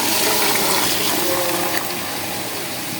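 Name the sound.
hot water poured into fried rice for pulao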